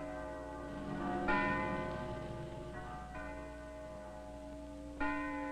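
A large church bell at St. Stephen's Church tolls with loud, ringing strikes, each stroke swelling and then decaying slowly into a long humming resonance, with no one talking.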